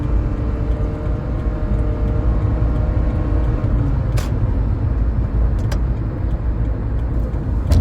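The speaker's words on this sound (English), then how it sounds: "My car sounded like it was going crazy town." A car drives onto a highway entrance with a steady, loud engine and road roar throughout and a couple of brief sharp clicks or knocks, no talk.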